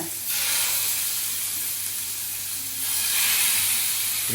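Shashlik ingredients, including capsicum, fry in a hot pan with a steady, loud hiss and sizzle that swells toward the end, close up and with no talk.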